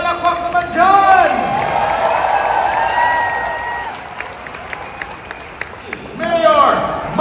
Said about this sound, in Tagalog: Isang malakas na palakpak naman dyan!